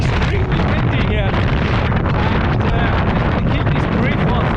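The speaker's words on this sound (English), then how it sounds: "Whilst it's a glorious sunny day, it is extremely windy here." Strong wind buffets an outdoor microphone on a sunny day, a heavy, continuous low rumble with gusty swells that never lets up. Someone talks steadily underneath the roar.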